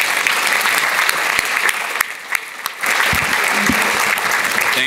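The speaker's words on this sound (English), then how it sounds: "let's give them a round of applause" Audience applause for panelists at a community violence intervention event, a loud, dense round of clapping close by that dips briefly in the middle and then continues.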